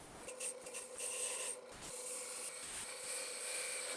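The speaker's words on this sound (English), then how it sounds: "If you wiggle your parting tool from side to side," A parting tool cuts into wood turning on a lathe while being wiggled side to side, giving a steady close rasping scrape with brief dips and resumptions.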